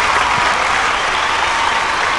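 Loud, continuous audience applause welcoming a singer onto the stage of a Bhojpuri singing competition show, a dense even roar of clapping with no pauses and no voices heard over it.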